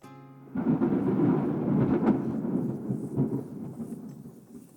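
A deep rumble of thunder rolls in abruptly and lingers, fading slowly, with faint rain patter beneath.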